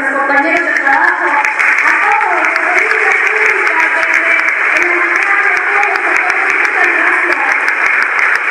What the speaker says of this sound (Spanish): Un fuerte aplauso para mis compañeros de trabajo.